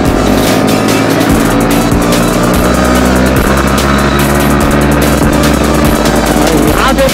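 Road traffic heard from a moving motorcycle with a Yamaha and Pulsar NS400 and NS160 riding together: loud, continuous engine drone with rising and falling revs and dense wind rush, other vehicles blending in close by.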